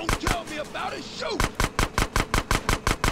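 Gunfire in GTA San Andreas aimed at car wheels: after a brief jumble of game noise, a rapid, evenly spaced burst of about a dozen loud, sharp shots rings out close by.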